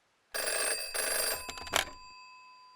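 An old-style telephone bell rings loudly and close, in two quick bursts followed by a shorter jangle that cuts off, with no one talking.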